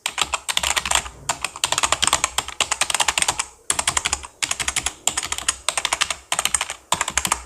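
Clicky Outemu Blue mechanical keyboard switches clatter under fast typing, in crisp bursts of rapid keystrokes broken by short pauses, close and distinct.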